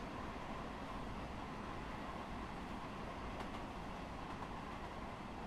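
Long Island Rail Road M3 commuter train running on the Hempstead to Atlantic Terminal, Brooklyn route in a train simulator game, a steady, even rumble of wheels and motors that stays loud throughout with no voices.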